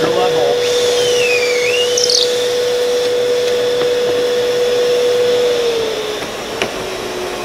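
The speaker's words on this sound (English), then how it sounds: "so I'm just going to drill that hole." A power drill boring a hole in wood runs as a steady whine close by, then eases off and shifts lower near the end.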